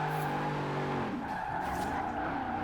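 A Corvette drifting in Forza Horizon 4, a loud sustained tire squeal over a steady engine drone that shifts pitch as the car slides sideways, continuous and close.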